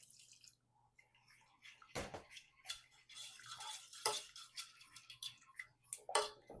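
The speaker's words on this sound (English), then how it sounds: "Give that a stir. I use a wire whisk." A wire whisk stirs thick curry sauce in a pan, making faint, irregular metallic clicks and scrapes against the pan, close but quiet, with pauses between strokes.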